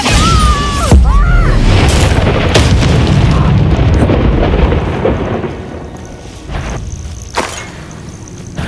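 A Bombarda spell blasts in the video game Hogwarts Legacy, a loud, booming explosion with a thundering rumble that fills the first half, then decays into a lingering low roar with a few smaller crackling hits.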